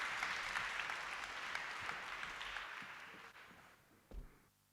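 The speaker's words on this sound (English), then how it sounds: "a round of applause, please, for our two interviewees" Sustained applause from a conference audience for two panel interviewees, a broad steady clatter of clapping that thins and fades toward the end.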